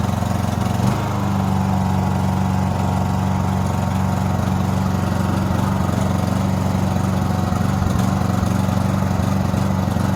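A Honda 2200 portable generator, just restarted after long storage, runs at a steady close-up hum that stays constant and even throughout with no talk over it.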